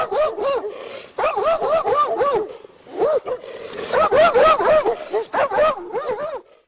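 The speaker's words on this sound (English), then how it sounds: "Hootch and a second dog owned by Clubb moved towards the officer, growling, showing teeth, and lunging." Dogs confronting a police officer in dashcam audio snarl and bark in dense, rapid bursts, loud and close, with brief pauses between frantic, yelping runs.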